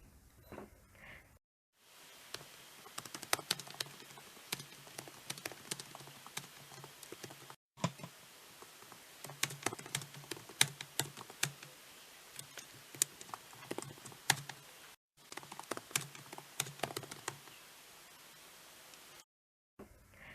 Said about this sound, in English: The keyboard has a shorter key travel, but it is very nice to type on.